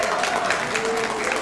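A comedy-show audience cheers and claps in a dense, continuous burst of applause and shouting, loud and filling the room, with crowd voices mixed in.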